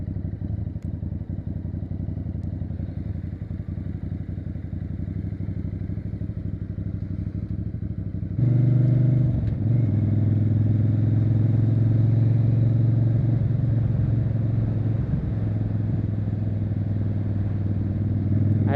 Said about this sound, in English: I'm gonna turn the idle up real quick.